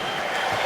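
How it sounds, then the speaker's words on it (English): Basketball arena crowd roaring loudly during a college game between Oklahoma State and Oklahoma, a dense, steady wall of cheering and applause with no break. "that might be the loudest we've heard the crowd here tonight"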